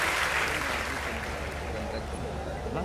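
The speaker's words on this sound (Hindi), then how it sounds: "एक बार तालियां बजा दीजिए" Applause from the audience at a kavi sammelan poetry recital, a steady, moderately loud wash of clapping throughout the short stretch with some crowd murmur.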